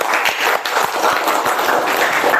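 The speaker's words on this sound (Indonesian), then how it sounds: "Tepuk tangan dulu sama mereka." Hands clap in a classroom after a student group presentation, a lively burst of many pairs of hands with uneven, overlapping smacks, loud and close, fading a little toward the end.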